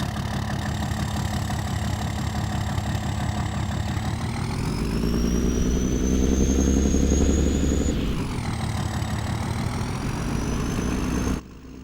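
Offroad RAM pickup engine from Elk Mountain Modding in Farming Simulator 22, a loud steady idle with a deep rumble that revs up midway, holds, then drops back and cuts off abruptly near the end.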